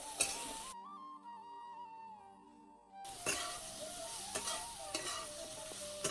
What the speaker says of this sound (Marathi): आता फक्त 5 मिनिटं भाजी परतून घ्यायची.